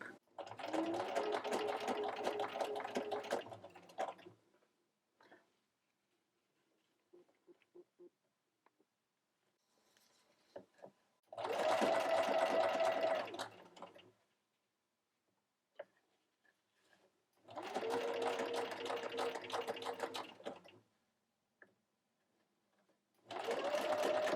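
Sewing machine stitching a curved seam to a straight one, running in several steady bursts of a few seconds each, separated by quiet pauses with faint handling clicks.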